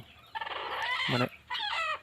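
A local farm hen, sitting broody, gives a few loud, close clucks and drawn-out calls in two short bursts separated by a brief pause.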